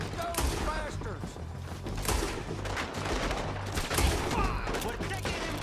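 Gunfire in a chaotic Old West town shootout in Red Dead Redemption 2, with scattered overlapping shots and thumps under shouted voices, mixed with game ambience at moderate volume.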